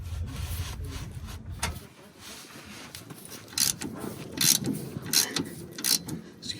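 A wrench works a 15 mm bolt loose on a Ford Ranger rear shock absorber, giving repeated short metallic ratcheting and rubbing bursts close by, with scraping between them.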